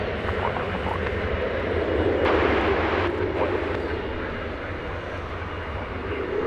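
An airliner taxis through fog at DFW Airport, a moderate steady engine rumble and whine that swells briefly midway, with faint talk in the background.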